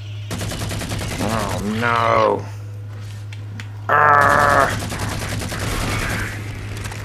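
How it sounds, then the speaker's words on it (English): Gunfire in the video game Halo 4, with rapid shots crackling through most of the stretch, overlapped by a player's excited voice and a steady low in-game hum. "I'm just gonna shoot them in the face."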